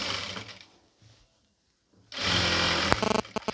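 A sewing machine stitches the back piece of a pleated nightie up close: a loud motor whir runs, stops for a short silent pause, then restarts with a few quick stuttering bursts.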